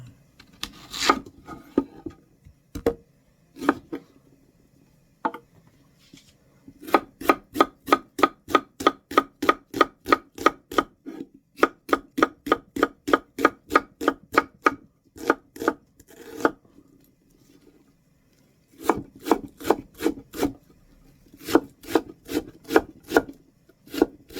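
Rapid, rhythmic knife chops through an onion knock against a wooden board in long bursts, separated by short pauses, close and crisp.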